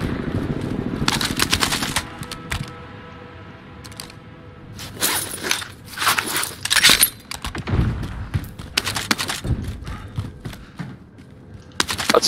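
Automatic weapon fire in a multiplayer video game, loud rapid bursts of machine-gun shots crackling in clusters with brief pauses between volleys, alongside rattling mechanical clicks of gear and reloading.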